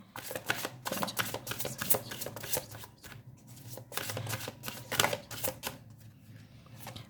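Tarot cards are shuffled by hand in quick, close bursts of crisp riffling and flicking, pausing briefly between runs.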